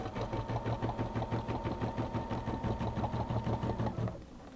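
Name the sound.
embroidery sewing machine sewing a basting stitch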